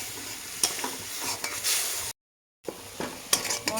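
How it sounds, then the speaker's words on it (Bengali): Spice paste fries in oil in a pot, giving a soft continuous sizzle broken by scraping stirs and light clinks, with a brief silent gap in the middle. "মশলাটা খুব সুন্দর ভাজা ভাজা হচ্ছে"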